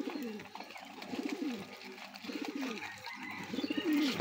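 Pigeons coo in repeated soft, throaty rolling phrases as they are fed on an Eid morning, the calls close by and coming in several bursts with faint outdoor background sound.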